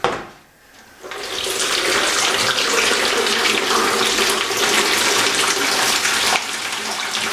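Warm water at about 65 degrees pours steadily over a balloon-capped bottle sitting in an empty container, a continuous close splashing gush that starts after a second of quiet and runs to the end.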